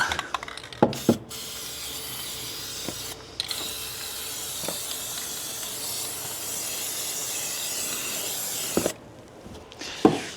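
Steady hissing spray runs for several seconds, broken by brief pauses and a few sharp clicks, fairly close, while spraying a jon boat during an EVA foam decking install.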